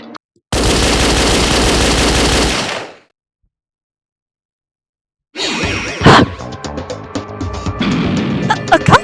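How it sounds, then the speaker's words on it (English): A machine gun mounted on a surveillance camera fires in the Danganronpa Another Episode video game, a loud rapid burst of gunfire lasting about two seconds, then silence, then impacts, crashes and game effects. "The surveillance camera. It has a machine gun attached."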